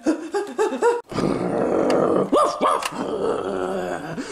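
A dog growls and grunts up close, starting with a few short rising vocal bursts, then a sustained rough rumbling growl broken by louder groaning swells.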